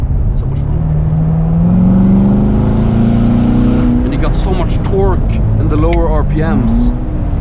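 A 2016 Chevrolet Corvette C7 Stingray's engine revs loudly while accelerating, the tone rising steadily from inside the cabin as someone talks excitedly over it.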